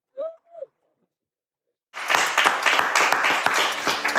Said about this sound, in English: if they want to go ahead and give a round of applause